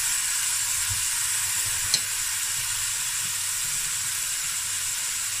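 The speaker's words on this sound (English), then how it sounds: "Let's fry this until it gets a nice color." Oil sizzles steadily in a pan throughout, a dense constant hiss of frying for Cape Malay seafood akhni, with one brief clink partway and no talking.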